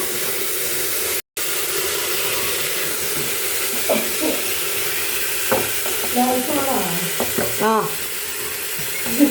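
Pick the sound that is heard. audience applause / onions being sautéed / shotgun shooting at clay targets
onions being sautéed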